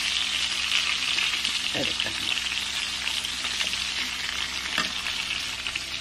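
Salted fish frying in a pan, a loud steady sizzle with occasional scrapes and stirring as pieces are turned, briefly under a voice.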